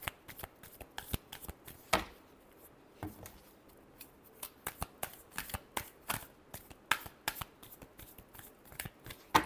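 A deck of tarot cards is shuffled by hand in a steady run of crisp flicks and riffles, close and fairly quiet, with no talk over it.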